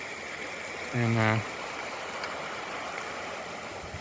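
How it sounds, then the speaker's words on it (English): A swift-moving creek on a South Coast hike rushes with steady, full broadband roar throughout, while a voice says a single short word early on. "So here's another creek that I have to cross"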